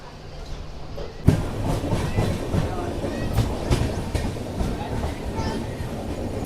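The Secunderabad-Guntur Intercity SF Express pulls out of a station platform: a close rumble of rolling wheels with repeated clickety-clack knocks over the rail joints, while people talk nearby.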